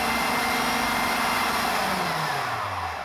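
A food processor briefly whizzes Hungarian short crust pastry dough with sour cream, giving a steady, whirring motor hum that winds down in pitch as the blade slows at the end.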